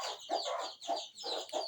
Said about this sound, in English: I have some new hens that I just bought